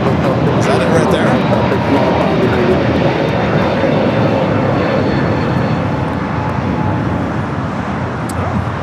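An Alaska Airlines jet from Seattle taxiing at LAX after landing, a loud, steady engine roar and rumble close by, continuous throughout.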